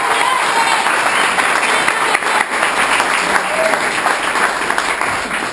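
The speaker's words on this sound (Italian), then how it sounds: "farei ancora una volta un applauso alle cuoche che hanno" Audience applause for the cooks at a neighbourhood community meal, a steady, dense wash of many hands clapping throughout, loud and close with no break.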